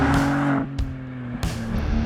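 Porsche Cayman GT4 RS fitted with a GT3 engine, loud close cabin roar with strong steady harmonics, briefly breaking at gear shifts before pulling hard again.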